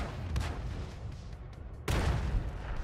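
A tank cannon fires a round in a multiplayer tank battle video game, with a loud booming blast cutting in near the end over a steady rumble of distant gunfire and battle noise.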